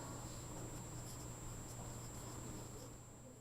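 Pen or marker writing derivative notation by hand, a steady soft scratching texture running continuously and fairly close over low background hum, with no talking.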